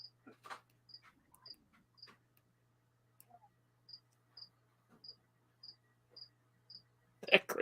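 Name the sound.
cricket chirping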